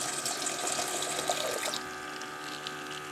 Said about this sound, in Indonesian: Nah, ini airnya kembali mengisi dengan otomatis.